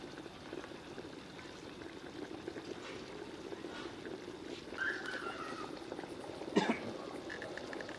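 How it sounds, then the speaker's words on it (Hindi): Water for a vegetable pulao boils in a pot, giving a quiet, steady bubbling hiss with a few brief brighter clinks, heard alone without talk. "माशाल्लाह पानी में बॉयल शुरू हो गया है।"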